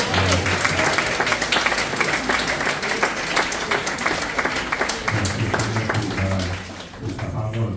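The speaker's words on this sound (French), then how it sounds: "Applaudissez Jésus!" A church congregation applauds loudly and steadily after a pastor's sermon, dense clapping filling the room for several seconds, with a few voices and music-like tones rising beneath it toward the end.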